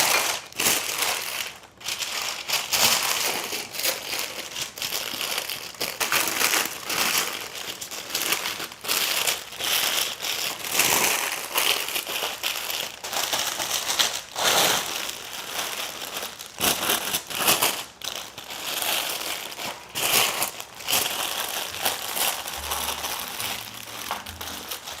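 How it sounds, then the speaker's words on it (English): Baking paper crinkles and crumples steadily as it is folded tight to seal a chicken with herbs and water inside, a close, continuous rustle with short pauses and no talk. "Now let's seal the baking paper."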